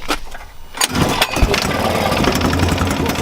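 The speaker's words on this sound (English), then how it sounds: "That's how you start the generator." A small generator engine is pull-started with the choke set and catches, then runs steadily, loud and close, after a sharp initial burst of cranking noise.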